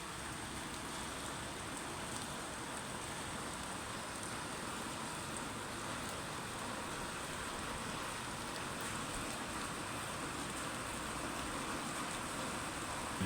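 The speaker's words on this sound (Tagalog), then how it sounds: "Lakas na naman ng ulan." Dense, steady rainfall hissing evenly throughout, a constant wash of noise with no voices or breaks.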